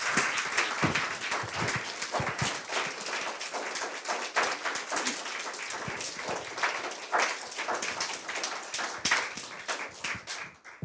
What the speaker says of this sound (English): we can give them yet another round of applause because they did such a great job